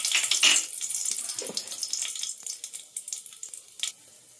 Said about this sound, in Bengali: তো তেলটা গরম হয়ে গেছে, এর মধ্যে আমি কিছু গোটা মশলা দিয়ে দিলাম।